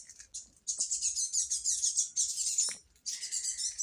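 Birds chirp and twitter steadily in bright, rapid bursts, with a short pause before the song resumes; no voices, just the outdoor chorus.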